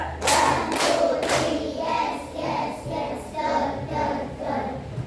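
A class of children clapping in unison: three sharp loud claps early, then a series of softer rhythmic claps, with faint voices in the room.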